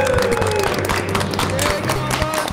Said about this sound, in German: Einmal eine Klatsche, bitte!